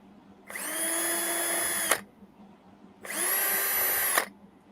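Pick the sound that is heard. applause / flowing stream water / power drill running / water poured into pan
power drill running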